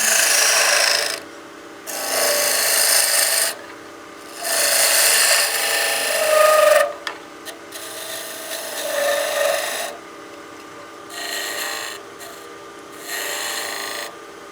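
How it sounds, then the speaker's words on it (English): A skew chisel's long point takes slicing cuts into the end grain of a wooden bat house ornament spinning on a lathe, giving repeated raspy bursts of cutting, loud and close, with short pauses between passes and no talk. "we're just using the long point of that skew. This is going to give us a good slicing cut."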